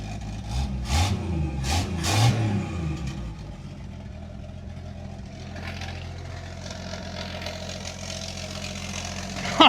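A turbocharged inline-six in a 1964 Chevrolet Biscayne runs close by, giving a few sharp revs before settling into a steady, rumbling idle, with no talking.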